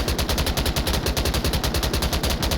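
A machine gun in the VR game Onward fires through a 200-round box magazine in one sustained burst: rapid, evenly spaced shots, loud and close, with no talking.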